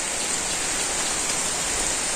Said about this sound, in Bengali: যে নিম্নচাপ শুরু হয়েছে বৃষ্টি তো দেখি বৃষ্টি একটু যদি থামে